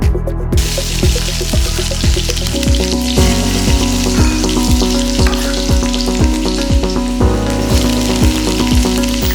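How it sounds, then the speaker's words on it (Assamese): Onion and garlic frying with panch phoron in mustard oil in a kadai: a loud, continuous sizzle with repeated rhythmic clinks and scrapes of a utensil against the pan, no voices. "এতিয়া মই কেৰাহী এখনত সৰিয়হ তেল দি দিছোঁ। ইয়াতে মই পাঁচফোৰণ এড কৰিছোঁ আৰু পিঁয়াজ নহৰু এড কৰিছোঁ।"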